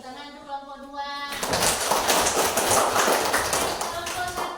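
A classroom of students breaks into clapping for a group that has just presented, a loud dense burst that follows a brief tonal voice and keeps going under scattered children's chatter.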